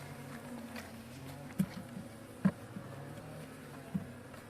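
A honey bee colony weakened by varroa mites and hit by wax moths gives a faint, steady low hum, broken by a few soft knocks.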